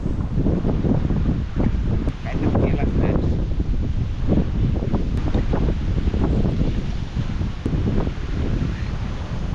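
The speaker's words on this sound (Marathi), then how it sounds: "वारं एवढं आहे ना उभं राहू शकत नाही झाड" Strong wind buffeting the microphone outdoors among village trees after rain, a loud, steady roar with gusting rumbles throughout, a voice speaking faintly under it.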